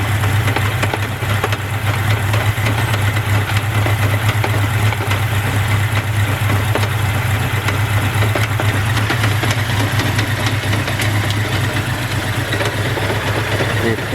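A 1983 Honda Nighthawk 650cc motorcycle engine runs with a steady low rumbling drone and a rapid mechanical patter throughout, loud and close.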